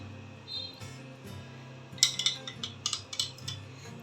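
A spoon stirs fennel mint lemonade, producing a quiet rumble at first and then a run of light, quick clinks and taps against the container.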